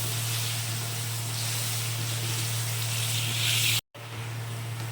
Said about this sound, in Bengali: আলুটাকে ভালো করে ভেজে দিচ্ছি